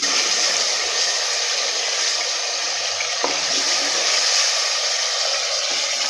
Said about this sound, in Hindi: बहुत अच्छे से मसाला हमारा भुना जा रहा है।